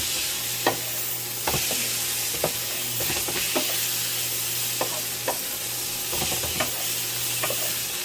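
Sausage and roasted peppers sizzling in a pan, a steady dense frying hiss with occasional sharp pops and clicks of a utensil stirring, close and even, with no voices.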